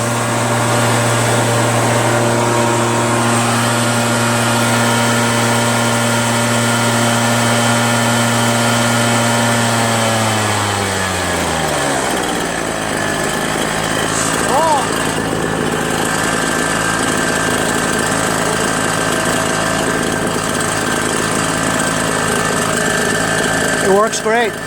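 A Redmax EBZ8050 gas backpack leaf blower with newly installed piston rings runs close and loud at a steady high drone, then winds down and dies about halfway through, leaving quieter background noise and a few faint clicks.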